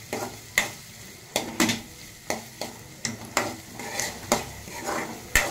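Sliced onions and green chillies frying in oil in a pan, with a steady soft sizzle and regular scraping spatula strokes roughly every half second, close and clear with no talking.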